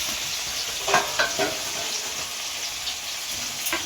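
Paneer pieces sizzle and fry in a pan with salt and turmeric, a steady bright hiss with a few stirring scrapes and clinks over it, close and fairly loud.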